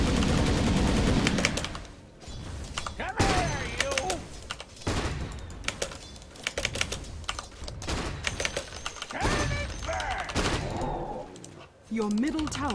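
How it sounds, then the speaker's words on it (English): Rocket Barrage fires in a Dota 2 match, a rapid clattering stream of small explosive pops heard among other game sound effects, while a voice talks over the action. "I'm also going to miss this creep if I don't rocket barrage."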